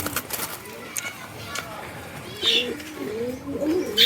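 Pigeons in a farm coop give soft, low cooing calls that rise and fall in short phrases, with a brief sharper call midway and some faint background chatter.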